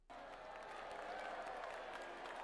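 Crowd noise from spectators at a televised jousting tournament, a dense continuous roar of many voices that could be booing, loud and sustained throughout.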